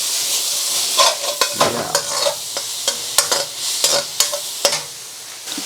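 Chow mein noodles coated in hoisin sauce are stirred in a frying pan, with repeated scraping clacks of the utensil over a soft sizzle and one brief spoken word.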